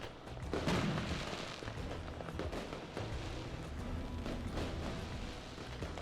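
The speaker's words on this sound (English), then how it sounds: "The fireworks get more and more impressive as you go." Fireworks bursting over a Martian colony in the game Surviving Mars, a steady run of dense crackling pops and booms with a stronger burst near the start, continuing without talk.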